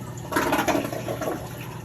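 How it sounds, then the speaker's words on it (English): A brief rushing gush of water, like a toilet flushing, starting abruptly and continuing as a steady swirl nearby. "Now we're gonna just give it a flush."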